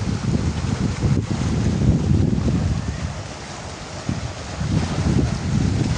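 Strong, gusty wind roars by the sea as a typhoon approaches, buffeting the microphone with a steady low rumble that swells and eases over several seconds, with surf underneath and no voices.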